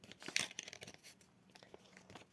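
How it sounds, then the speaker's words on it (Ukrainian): A snack packet is torn open nearby, with a quick loud rip followed by softer crinkling of the wrapper in a quiet room. "ми відкрили наш пакетик"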